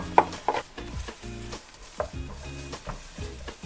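Chopped ingredients for halal jjajangmyeon, Korean black bean noodles, being stir-fried in a pan: rhythmic scraping strokes of a spatula with clinks against the pan over a soft sizzle, close up and without speech.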